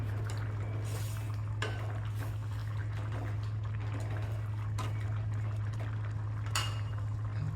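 A spoon stirs and scrapes inside a pot of potato curry for poori, with a few sharp clinks over a constant low hum.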